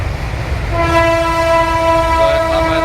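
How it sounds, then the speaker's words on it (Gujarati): A train in India sounds a long, loud, steady horn blast as it passes close by, the tone sustained for about two seconds over a low rumbling of wheels and engine. "જાઓ પાછી ટ્રેન આવી ગઈ"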